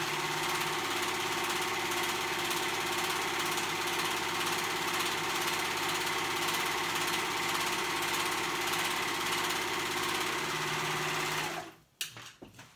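A sewing machine runs steadily for about eleven seconds, stitching two raw fabric edges together on kids' grow-with-me pajamas, its loud continuous motor hum and rapid needle chatter stopping abruptly near the end.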